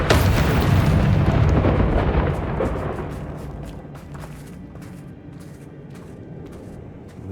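A Confringo spell explosion in Hogwarts Legacy booms loud at the start, then its rumble gradually decays into a quieter tail with faint crackling debris.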